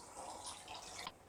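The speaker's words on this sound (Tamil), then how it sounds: "இப்போ வந்து தண்ணி கொஞ்சம் ஊற்றிக்கலாம்." Water is poured into a pot of Chettinad chicken gravy as it cooks, a soft splashing trickle heard up close and faint, lasting about a second with no talking.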